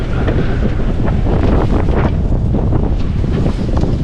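Strong wind buffets a solo sailboat at sea in a large swell of waves around 2.5 m, a loud continuous roar with gusting surges and water wash close to the microphone.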